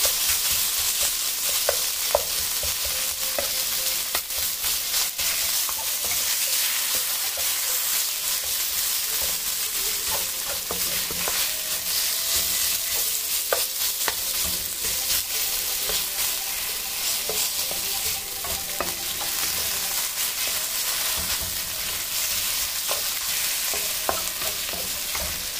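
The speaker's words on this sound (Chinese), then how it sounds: "然后再加一点油，放入牛肉片滑炒" Sliced beef stir-frying in oil in a wok, a constant dense sizzle that holds steady throughout, with occasional small clicks from the pan and no talking.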